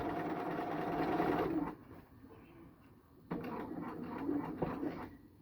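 A sewing machine stitches down an invisible zipper in two close, steady runs of rapid whirring, stopping for a short quiet pause before starting again.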